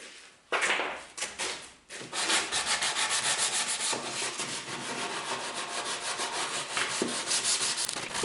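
Sandpaper rubbed over the wooden plate of a homemade router table, a few brief strokes and then a rapid, steady back-and-forth scraping that stays close and fairly loud throughout.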